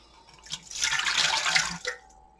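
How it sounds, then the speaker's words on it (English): Water pours steadily into a mixer bowl while making sourdough bread, a close splashing gush lasting about a second and a half before trickling off, with no talking. "There's the water, goes in the mixer."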